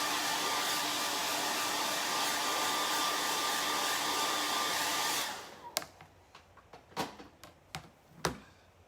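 A hair dryer blows steadily and loudly on chalk paint over a melamine craft piece for about five seconds, then shuts off, leaving a few sharp taps and clicks in the quiet.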